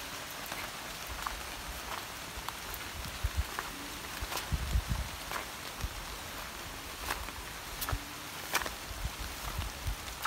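Steady rain falls outdoors on a farm, with a continuous dense patter and occasional sharper drops hitting nearby surfaces, no voices.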